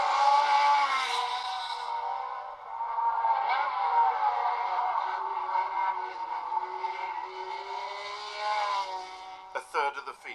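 Formula One race cars of 1971 at Zandvoort, their high engine whine sustained and shifting pitch as they race past, with clattering bursts near the end.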